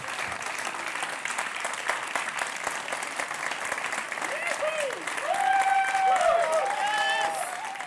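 Applause rings out at the European Youth Award Gala 2014 for an award winner coming forward for a photo, steady clapping across a hall, swelling louder near the end with some cheering mixed in.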